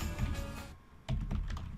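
Quick clicking keystrokes on a computer keyboard, close up, with a short pause before another burst of typing.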